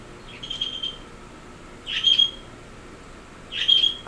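Short bursts of pet bird chirping indoors, three brief calls spaced a second or two apart, moderately close and fairly faint over a quiet room.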